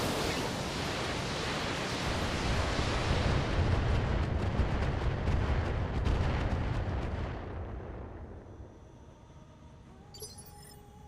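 Heavy artillery fire in the BattleTech video game, a loud sustained roaring barrage of rumbling blasts that rolls on for several seconds, then fades out into quiet with a faint electronic blip at the end.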